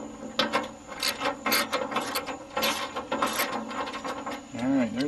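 A small hand ratchet clicks in rapid bursts while fastening an RV step handrail, close and fairly loud, with metallic rubbing between strokes.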